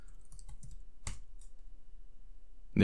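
Keys tapped on a computer keyboard while entering a command in a terminal, a few quick clicks near the start, one sharper keystroke mid-clip and a heavier thump at the end, close and fairly quiet.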